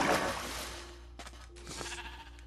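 A sheep in the Minecraft video game bleats, a faint short bleat followed by a couple more brief bleats over soft ambient background, with no talking.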